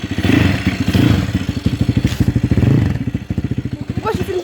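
A motorcycle engine idles just after starting, its loud, close exhaust beating out a steady, fast thumping pulse with slight mechanical clatter throughout.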